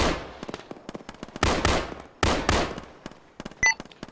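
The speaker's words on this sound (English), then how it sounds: "They shoot all the cripple enemies." Rapid bursts of automatic gunfire in a military video game, loud and close, firing in several sustained volleys separated by short pauses, with a brief high electronic tone near the end.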